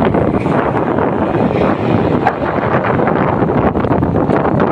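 Strong wind buffets the microphone outdoors at a hot private resort, a loud continuous roaring rumble and hiss throughout, with no voices.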